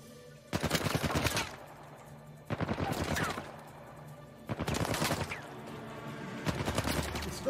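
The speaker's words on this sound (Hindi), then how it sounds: "दनादन गोलियां मार रहे हैं यार वो तो।" Four bursts of rapid gunfire from Uncharted 4, each lasting about a second, separated by brief quieter gaps, sounding like game weapon fire at moderate distance.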